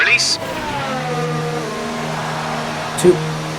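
Engine of an F1 2019 video game car pulling out of a pit stop after a tyre change to mediums, a steady droning tone that holds level throughout, with a short higher blip near the end and speech over it.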